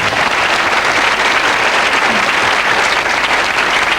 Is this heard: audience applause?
yes